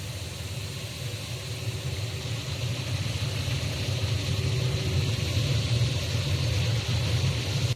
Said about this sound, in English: So let's go check out engine 3 as it starts up here.